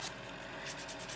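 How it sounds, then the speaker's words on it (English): A hand nail file rubs across a nail during a fill-in, giving soft, close rasping strokes in a steady back-and-forth rhythm, with no voices. "So now I'm just going in with my hand file."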